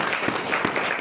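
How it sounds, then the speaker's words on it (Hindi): A church congregation claps during a Hindi worship service, with brief scattered applause and some crowd murmur that fades quickly. "यीशु के लिए ताली जा सकते हैं।"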